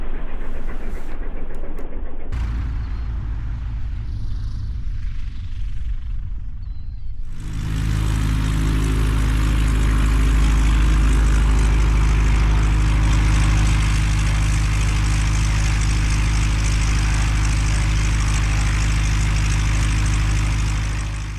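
Small propeller airplane practicing spot landings, its engine droning steadily and loudly close by after a quieter, rumbling start, with no talk.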